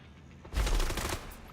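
A short burst of automatic gunfire from The Division, a loud, close flurry of shots that erupts suddenly after a quiet moment and then tapers off.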